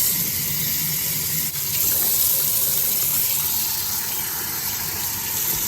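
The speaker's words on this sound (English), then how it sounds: "you're going to want to first rinse with warm water" Warm tap water running steadily into a sink to rinse Rit-dyed fabric, a constant close gushing splash with a brief dip partway through.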